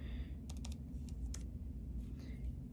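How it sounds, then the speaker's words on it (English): Typing on a Mac keyboard while entering a flight number, several quick soft key clicks in short clusters over a steady low hum, close and quiet. "so I can type in a flight number"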